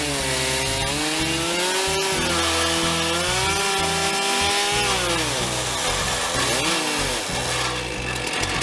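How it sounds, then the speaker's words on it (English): A chainsaw cuts a curly arbutus burl stump, its loud engine roaring continuously close by, with the pitch rising and dropping as the chain bites into and eases off the wood. "we will go sharpen the chainsaw again and try cutting them"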